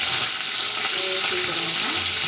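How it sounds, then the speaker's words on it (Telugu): Curry leaves dropped into hot oil crackle and sizzle loudly and continuously at close range, a dense spitting hiss with no pause. "కరివేపాకు అయితే ఇలా వేసేయాలి"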